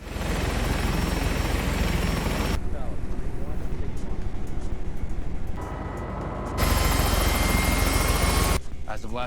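A helicopter's engine and rotors run as a steady, loud roar throughout, with abrupt shifts in level and tone as the scene cuts between shots.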